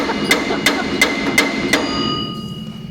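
A hammer strikes a metal axle flange five times at a steady pace, each blow a sharp ringing clank close by, with a faint background hum and a quiet tail after the last hit.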